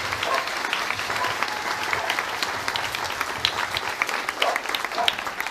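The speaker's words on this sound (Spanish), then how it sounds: "Yo creo que también se merece un fuerte aplauso" Steady applause from a church congregation during a Palm Sunday parish service fills the space, dense and sustained for several seconds with no pauses.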